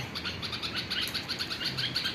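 Bulbul birds near their nest chirp in alarm at a cat, giving a quick, continuous string of sharp, high chirps at moderate distance over a soft background hiss.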